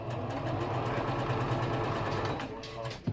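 A sewing machine stitching fabric, a steady close whirring drone with a fast mechanical rhythm that runs continuously and slows near the end, with a voice faintly under it.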